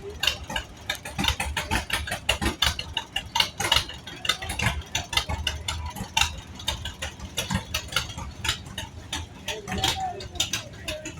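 1942 John Deere BR tractor driven in a farm show parade, its engine thumping in a steady, uneven popping rhythm close by, with people talking over it.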